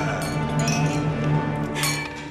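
Drinking glasses clink together in a toast at a celebration inside a luxury mansion, with bright, ringing chimes that sustain and overlap close by.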